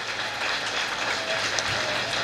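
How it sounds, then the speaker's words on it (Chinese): Applause rises from an audience at a Tainan city event honouring the mayor and city government, a continuous dense clapping wash heard fairly close for a couple of seconds. "咱掌声甲说到谢谢哈。"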